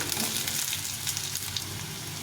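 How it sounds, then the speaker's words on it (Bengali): Potatoes frying with onion in a pan sizzle in a dense, continuous crackle close by, with faint stirring scrapes and no talking. "আলুটা পেঁয়াজের সঙ্গে ভেজে নেব"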